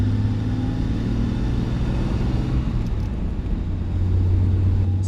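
A Jaguar E-Type's engine drones steadily and loudly from inside the car while driving, with low gearbox whine underneath and no pauses.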